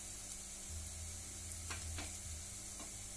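Spices being stirred and sautéed in a pan for paneer butter masala, with a steady low sizzle and a few soft scraping stirs, close and quiet, no speech.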